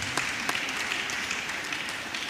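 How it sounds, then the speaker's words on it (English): Audience applause at a women's forum of a bar association's annual general conference in Nigeria, a steady wash of clapping with a few sharper claps, moderately distant and fairly quiet, no talking. "A round of applause for him, please."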